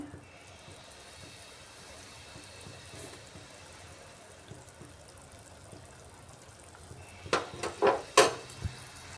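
Rasam with mashed tomato simmers in a pot with a faint, steady bubbling hiss, and a ladle clinks and scrapes a few times near the end.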